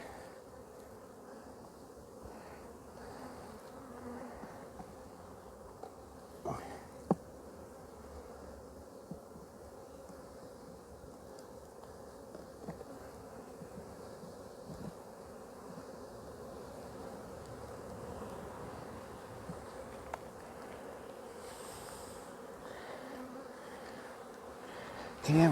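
Honeybees buzz in a steady, low hum around the frames of an opened, re-queened hive, with occasional soft knocks and handling noises over the constant droning swarm.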